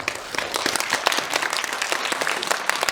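An audience at a Korean film screening Q&A for King Maker with actor Sol Kyung-gu claps steadily in a show-of-hands style vote: dense, continuous applause from many hands, filling the room throughout with no voices over it.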